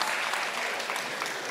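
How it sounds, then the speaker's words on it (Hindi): Audience applause at a mushaira (Urdu poetry recital) in Kolkata, a steady dense wash of clapping from a large crowd that continues evenly throughout without speech. "एक बार मिलकर तालियां बजा दें"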